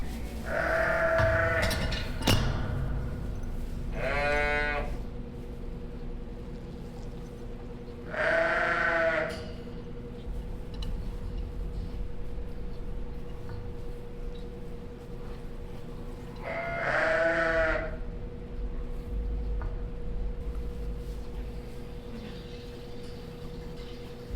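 Sheep bleat several times at spaced intervals inside a sheep barn, each call a wavering, drawn-out baa over a steady low hum and background noise.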